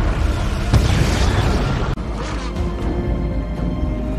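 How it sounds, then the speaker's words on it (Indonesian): A car shot at in a film blows up: a sustained, loud rumbling blast fills the whole stretch with a sharp cut partway through, continuing as a heavy roaring burn. "sudah ada seseorang yang menembak mobil itu sehingga meledak."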